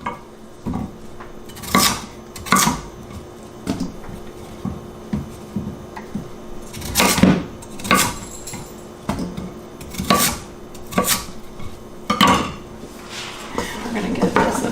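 A spoon stirring sweet potato and black bean chili in a pot: irregular metallic clanks and scrapes against the pot sides come close and clear, repeating every second or two with quieter stirring between.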